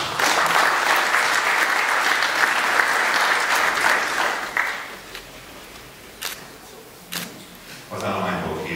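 A council meeting audience applauds firefighters who took part in Danube flood defence, a dense burst of clapping for several seconds that thins to a few scattered claps and camera clicks as a voice begins.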